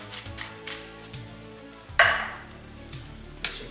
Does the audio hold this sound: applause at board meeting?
no